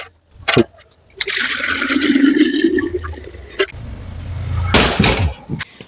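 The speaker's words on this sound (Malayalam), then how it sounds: "വെള്ളം അടിച്ച് ടാങ്കി കയറ്റി പൈപ്പിൽ നിന്നാണ് എടുക്കുന്നത്" Water gushes from a pipe fed by a pumped tank into a clay pot, a close, splashing rush that starts and stops in several bursts with brief quiet gaps between.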